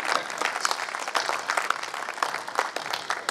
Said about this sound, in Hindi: सम्मान की तालियां